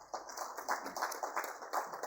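Applause at an awards ceremony for a sanitation conclave, a short burst of steady, fairly faint clapping from an audience with no voices over it.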